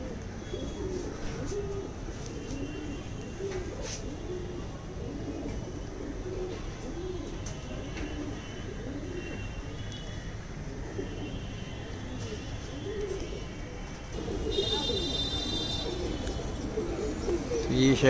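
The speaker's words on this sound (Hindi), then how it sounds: "और भी है कुछ कबूतर फट के उड़ रहा है" Pigeons coo repeatedly under a voice at night, and a flurry of wing flapping breaks out toward the end.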